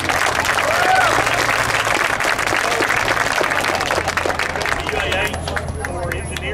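A crowd at a high school soccer senior night breaks into sustained applause and cheering, loud and dense at first and gradually thinning, with voices mixed in.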